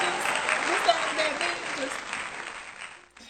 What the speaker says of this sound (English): Can we just give a quick round of applause?